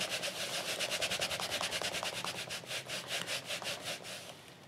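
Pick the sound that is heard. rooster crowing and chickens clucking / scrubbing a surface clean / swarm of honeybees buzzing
scrubbing a surface clean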